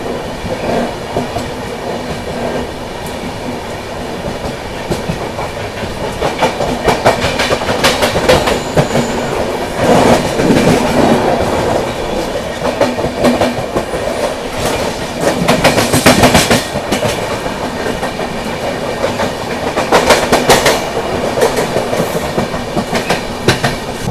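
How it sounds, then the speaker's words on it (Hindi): Barauni Bandra Awadh Express rolls past on the rails, loud and close, with rhythmic clickety-clack of wheels over joints and a steady rumble throughout, no talk. "बरौनी बांद्रा अवध एक्सप्रेस"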